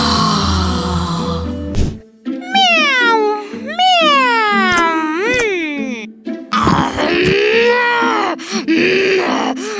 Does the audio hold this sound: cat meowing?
yes